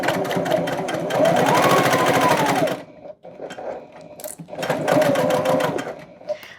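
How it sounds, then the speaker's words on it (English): A sewing machine runs steadily stitching a tote bag seam at a 3/8 inch allowance, a fast even mechanical whir that pauses briefly near the middle, then resumes, loud and close. "So we'll stitch at our 3/8 inch"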